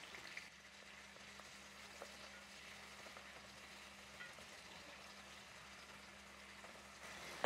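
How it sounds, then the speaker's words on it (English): Onion, a jalapeno pepper and a seasoning pepper sauté in a pan, giving a steady, even sizzle that runs throughout at low level, with a steady low hum beneath it and no talk. "So let's saute these things."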